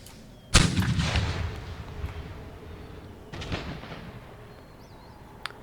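Troops fire muskets in the Empire Total War video game during a battle for Philadelphia: a loud volley cracks out and rumbles away, a second, softer volley follows about three seconds later, and a faint distant shot comes near the end.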